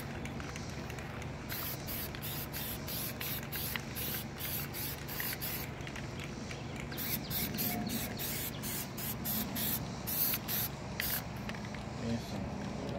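Aerosol spray bursts of Plasti Dip rubber coating hiss onto the wheels of a 2018 Ford Explorer in repeated short blasts with brief pauses, close and steady over a low background murmur.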